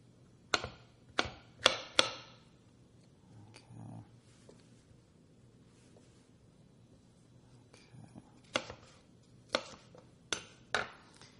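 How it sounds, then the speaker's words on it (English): Jalapeños and other vegetables chopped with a knife on a board, several sharp close knocks in quick bursts separated by quieter pauses, with no talk. "I'm just going to chop them a little bit so they'll blend good."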